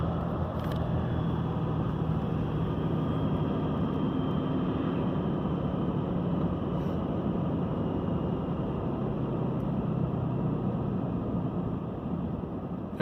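A 2012 RAM truck with a failed variable-geometry turbo decelerating toward a near stop, a steady broadband engine and road drone running continuously at close range, without a distinct turbo cut-off standing out.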